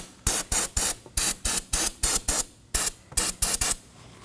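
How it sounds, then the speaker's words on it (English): Brake cleaner sprayed around the brake fluid reservoir of a 2015-2023 Nissan Maxima during a rear brake caliper job, heard as about fourteen short, loud, hissing aerosol bursts in quick rhythmic succession, close up and with no talking. "I'm going to clean the surrounding area with some brake cleaner and a rag."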